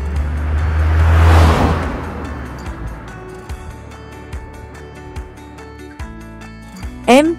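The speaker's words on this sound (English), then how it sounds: "C A R car." A car sweeps past close by with a rising then fading whoosh of engine and tyre noise, followed by a quieter passage and a few short tonal beeps at the end.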